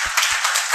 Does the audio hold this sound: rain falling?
no